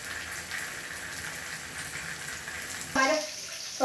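Kerala-style prawns fry crackling steadily in a pan, a dense continuous hiss, with a brief louder clatter near the end.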